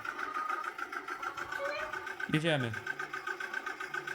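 A tractor engine idles with a steady, close rumbling drone during bale harvesting on a farm, while people talk over it.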